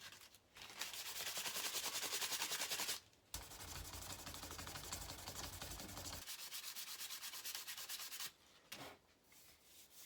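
Sanding and shaping a knife handle gives steady, close rubbing and grinding that runs in long bursts separated by brief pauses, with no talking.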